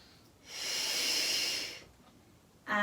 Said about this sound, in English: We're going to exhale